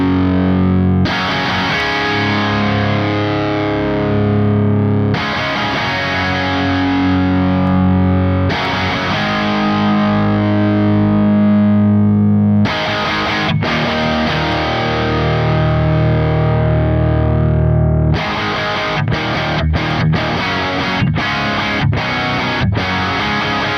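Heavily distorted electric guitar through a profiled Wangs 2204HW amp with treble turned up, loud sustained power chords and riffs broken by brief stops and sharp staccato stabs near the end, no talking.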